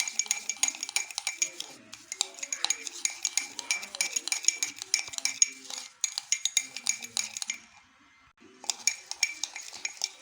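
A spoon stirs instant coffee with hot water in a cup, a rapid close metallic clinking and scraping that continues in bursts with short pauses.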